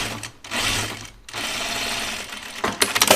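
Sewing machine stitching stretchy denim pants with a lengthened stitch, running in loud close bursts separated by brief pauses, with some mechanical clicks toward the end.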